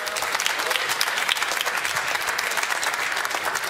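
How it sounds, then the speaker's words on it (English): A studio audience on a sports debate show applauds in a dense, steady burst of clapping that holds evenly throughout, with no talk over it. "Y'all can clap all y'all want to."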